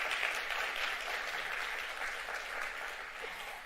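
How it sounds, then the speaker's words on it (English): Steady audience applause at a policy summit, dense and even clapping from a crowd throughout, fading slightly toward the end with no voices. "We should give him a round of applause."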